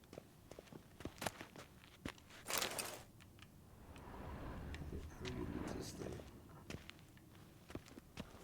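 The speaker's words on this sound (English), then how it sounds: "Footsteps." Footsteps in The Witcher 3 tap out as scattered, fairly quiet steps with a soft rustling stretch in the middle, while a player speaks briefly over them.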